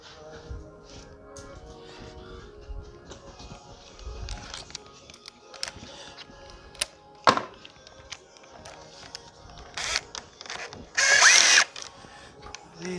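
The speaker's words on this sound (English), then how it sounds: "Let me just get my bit for my drill." A power drill fitted with a Phillips bit backs screws out of a 2008 GMC Acadia during engine and transmission removal. It gives several short separate whirs between quieter handling noises, with one louder sustained burst near the end.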